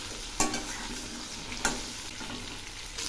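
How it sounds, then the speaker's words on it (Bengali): Drumstick pieces with potatoes and other vegetables fry in oil in a pan, a soft steady sizzle broken by three sharp scrapes of a stirring spoon. "এই সবজিগুলো এখন খুব ভালো করে ভেজে নেব।"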